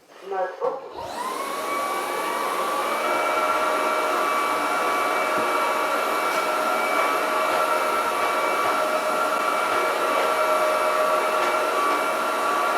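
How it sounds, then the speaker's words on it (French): A Roborock Dyad Pro wet-dry vacuum sucks up eggshells, starting with a clatter and then settling into a loud, steady motor roar with a high whine that holds throughout. "il devrait avoir plus de facilité pour aspirer la coquille d'œuf"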